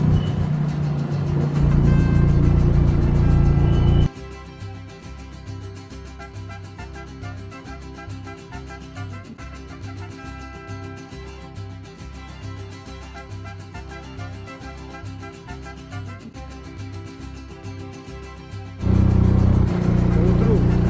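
A car climbs a steep, winding ghat road up to Matheran hill station. The engine gives a steady, strained drone under load for most of the stretch, with louder road and wind noise at the start and end.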